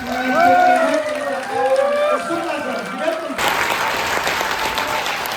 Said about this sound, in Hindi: हम सब खड़े होकर फिर एक बार भारत देश से और फौजी और सैनिक आप सभी की जोरदार तालियों के साथ